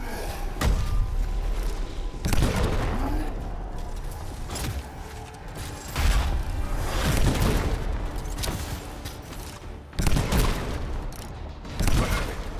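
Explosions in the video game Anthem boom out in a run of heavy, close blasts, about six bursts spaced a few seconds apart, with a rumbling, clattering wash of battle noise between them.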